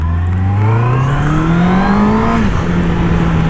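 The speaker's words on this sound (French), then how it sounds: "Et ce 4 cylindres, en fait, j'adore cette mélodie" A Honda CB650R four-cylinder motorcycle engine revs smoothly and loudly up through a rising pitch before settling into a steady drone, heard close with no talking.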